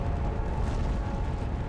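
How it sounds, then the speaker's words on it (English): Volcanic eruption of Mount St. Helens in 1980, a dense, continuous rumbling roar like a sustained explosion, loud and broadband with no distinct separate blasts. "It releases millions of tons of magma in a colossal explosion."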